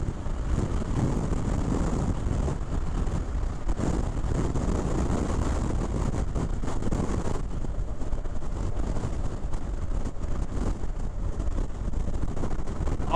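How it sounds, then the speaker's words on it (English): Strong, steady wind roars and buffets loudly throughout while driving across the Prince Edward Island bridge on the Trans-Canada Highway, a dense broadband rush with no pauses. "it is so windy"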